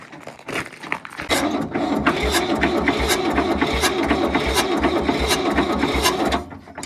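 An old vehicle engine that sat unused in the woods for 35 years cranks briefly, then catches and runs at a steady, loud, rhythmic idle close by before cutting off.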